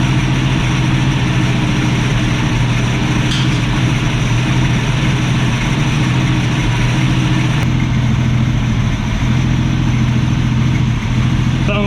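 The carbureted engine of a 1965 Ford Mustang restomod idles loud and close, a steady, unbroken low rumble that holds an even level for the whole stretch.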